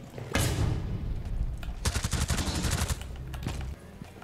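Gunfire in Rainbow Six Siege: a heavy opening shot, then rapid bursts of automatic fire, loud and close, with scattered single shots trailing off and no talk.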